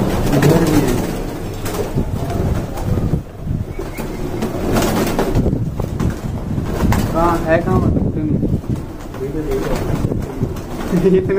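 Several pigeons cooing close by in repeated soft throaty phrases, with wind buffeting the microphone and people talking over the birds.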